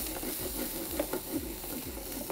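Chopped onion frying in a pan for vegetable pasta, a steady close sizzle with soft stirring scrapes and small pops throughout.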